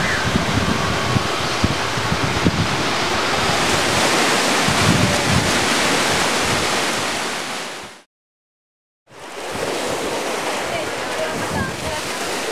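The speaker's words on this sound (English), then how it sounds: "the ocean is just a few meters behind the palms" Ocean waves on a Sri Lanka shore lined with palms near a road and rail line, a continuous loud rush of surf mixed with wind buffeting the microphone, briefly dropping to silence before resuming.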